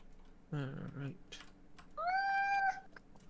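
A pet cat gives a loud, close, drawn-out meow near the end, after a short stretch of someone talking and a few faint keyboard clicks.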